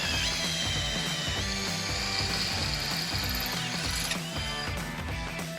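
A power drill with a freshly sharpened bit cuts through steel as a loud, continuous, rhythmically chattering whir that shifts in tone partway through.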